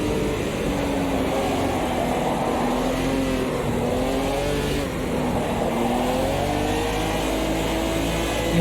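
A Puma GTB sports car in the Automobilista 2 racing game revs steadily under throttle through a series of corners, its engine note rising and falling continuously, loud and close with no talk over it.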